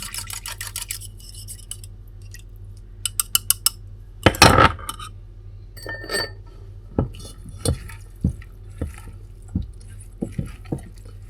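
A salad of jalapeno and onions is tossed in a bowl, giving light utensil clicks at first, then a louder clattering scrape followed by a string of sharp, evenly spaced taps and knocks.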